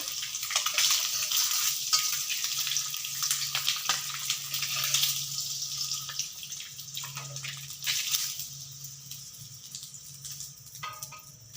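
Eggs frying in oil in a kadai for egg gravy, a steady close sizzle and crackle with occasional stirring scrapes, continuous throughout with no talking.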